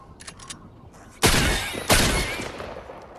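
Two sharp bursts of video game gunfire, a short volley and then a second one, sound loud and close over a faint background.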